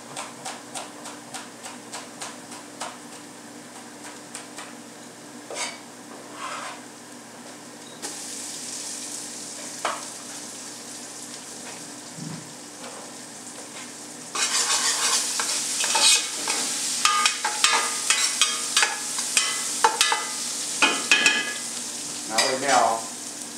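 Spices and onion frying together in oil, with a steady sizzle and frequent stirring scrapes at a cooking demo; the frying grows noticeably louder and busier partway through, close by and without talk.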